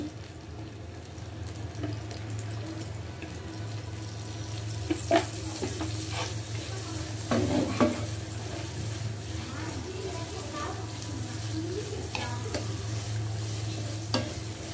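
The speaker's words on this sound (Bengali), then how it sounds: "এটাকে একটু ভাজা ভাজা করে নিতে হবে।" Large prawns frying with taro (kochu) in a pan, giving a continuous close sizzle with scattered utensil scrapes and stirring clicks, plus a low background hum throughout.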